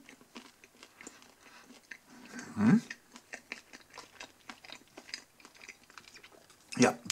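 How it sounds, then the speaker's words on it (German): A bite into a butter pretzel gives a sharp crunch, then quieter chewing, with another crisp bite near the end. "Hör mal hier abbeißen"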